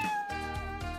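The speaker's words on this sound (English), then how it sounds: "Oh, cat." A cat in a DIY craft scene gives one drawn-out, tonal meow, loud and close, lasting about a second and heard alone without talk.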